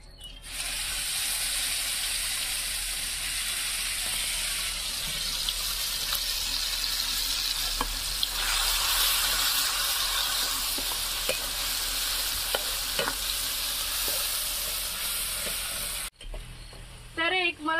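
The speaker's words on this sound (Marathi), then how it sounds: "तर आता याच्यामध्ये मी हा आपला मसाला तयार केलेला टाकून घेते." Masala sizzling and frying in a pan on a wood-fired stove for a dry fish dish, a loud continuous crackling hiss with occasional stirring clicks, ending abruptly.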